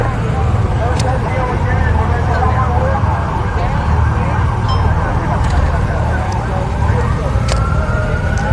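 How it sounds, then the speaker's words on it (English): An ambulance siren wails continuously beneath the dense roar of a crowd at a nighttime Los Angeles protest, staying prominent through the whole stretch amid shouting and chatter. "There's an ambulance coming in."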